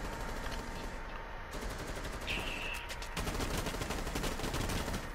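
Rapid gunfire from Rainbow Six Siege rattles continuously in dense automatic bursts, steady and loud throughout with a short high tone partway in.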